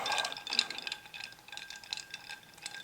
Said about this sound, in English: I'll just keep stirring.